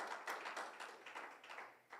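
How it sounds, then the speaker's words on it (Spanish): A church congregation applauds in a quick, fairly faint burst of claps lasting about two seconds, the clapping uneven and somewhat distant, with no voices over it. "Denle un aplauso al Señor."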